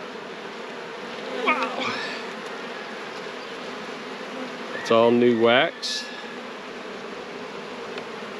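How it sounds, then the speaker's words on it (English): A close, continuous buzz of honey bees fills a hive inspection of fresh new wax comb, while someone speaks briefly over it. "Look at them bees. There's a drone."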